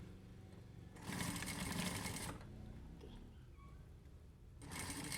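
Sewing machine stitching along the edge of the interfacing on a formal shirt collar, running in two close, steady bursts separated by a quiet pause.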